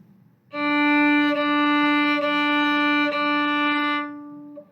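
Four bowed string notes on the same pitch, held long and connected, each flowing smoothly into the next without gaps, played alone and close.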